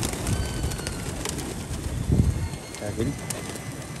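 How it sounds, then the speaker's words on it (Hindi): Domestic flying pigeons coo nearby in low, rounded bursts, one stronger coo in the middle, while someone talks briefly over an outdoor hum. "ये उड़ने वाले कबूतर ऐसे ही सादे ही होते हैं।"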